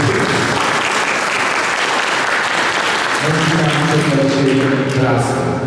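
An outdoor crowd applauds at the unveiling of a monument to Countess Gabriela Thun-Hohenstein. Dense, steady clapping runs for the whole stretch, with voices and some tonal sound rising beneath it toward the end.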